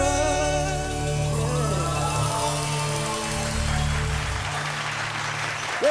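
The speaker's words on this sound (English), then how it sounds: "Another round of applause for them, please." Audience applause fills a hall after a singing battle on a vocal competition show, a dense sustained clapping that carries on for several seconds over lingering music, fading slightly near the end.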